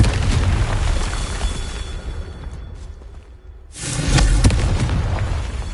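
A Confringo spell goes off in Hogwarts Legacy as a loud, close fiery blast with a heavy low rumble; a brief near-silent gap follows before a second powerful burst roars back.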